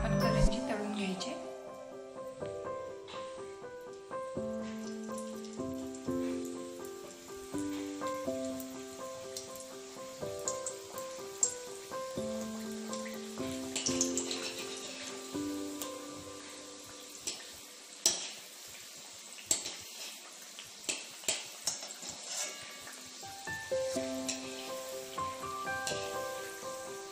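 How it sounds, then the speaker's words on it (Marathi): Green peas karanji frying in hot oil give a steady, rain-like crackle and sizzle that runs throughout, partly masked by tuneful background music. "आता तेल गरम झालेलं आहे. आता आपण करंजी तळून घ्यायचे."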